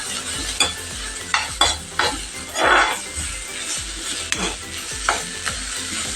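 Onion and curry leaves sautéing in a pan for a horse gram curry, a steady sizzle broken by repeated scraping stirs of a spoon against the pan.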